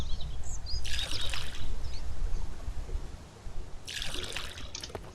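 Water pours and splashes in two short bursts as containers are filled at a lake in the survival game Mist Survival, set against a soft steady outdoor background.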